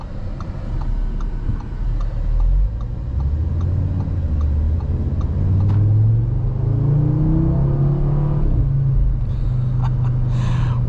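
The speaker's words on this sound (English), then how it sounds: "What a great sounding engine this is" A 2024 Audi RS 3 engine drones steadily then rises in pitch as it accelerates, with faint ticking in the background and a brief rattle near the end.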